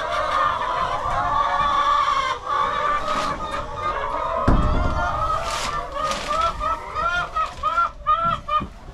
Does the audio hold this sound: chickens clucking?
yes